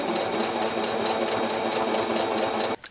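A sewing machine stitches a handbag seam in a steady, close, continuous whir, then stops briefly just before the end.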